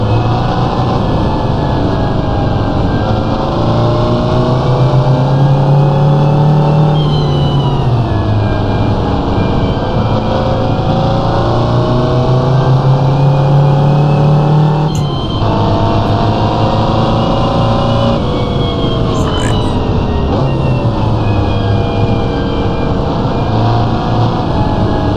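A Mini Cooper engine in the Assetto Corsa racing game drones loud and steady, with the pitch dropping and rising again as it shifts down to third gear and pulls on a hilly mountain road.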